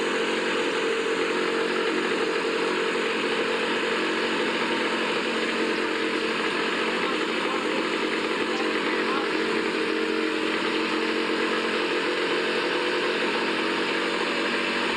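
A two-stroke engine runs steadily and loudly for the whole stretch, a constant buzzing drone with no pauses or change in pace.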